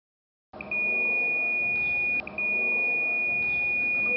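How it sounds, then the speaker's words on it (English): A multimeter continuity-test buzzer sounds a loud, steady high-pitched tone close by, breaking off briefly once before resuming and holding to the end. "As you can see through the multimeter and with that buzzer, the ground one is working properly."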